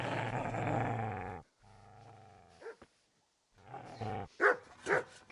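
A dog growls and barks in Kingdom Come: Deliverance, a long rumbling growl followed after a pause by several sharp, close barks.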